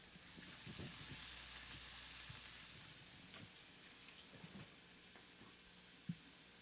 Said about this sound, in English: Some nice sizzle noise here.